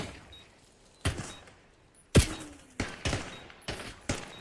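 Sharp gunshots ring out in an online competitive shooter match, a handful of separate loud cracks spaced irregularly over a few seconds with quiet gaps between, one blast followed by a brief ringing tone.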